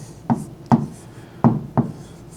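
Pen strokes on paper as a navigation figure is written into a gyro-error worksheet: four short scratchy marks in an uneven rhythm, close and fairly quiet, with no talking.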